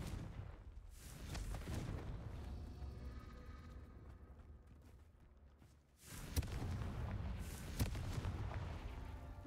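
Booming Confringo spell blasts go off in the Hogwarts Legacy video game, heavy explosive thuds over a rumbling game soundscape, with a quieter lull before a burst of loud impacts.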